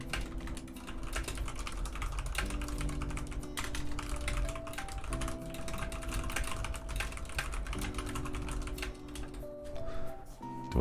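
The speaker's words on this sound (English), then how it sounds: "Sorry about the keyboard ASMR for anyone." Fast clicking of a computer keyboard being typed on close by, irregular bursts of keystrokes over quiet background music at low level.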